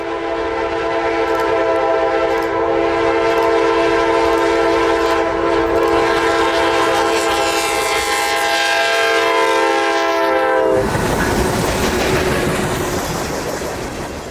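A Norfolk Southern T45 local freight train rolls past loudly on the CNO&TP line near Rockwood, its horn blaring in a long sustained blast before fading into the rumble of cars on the rails.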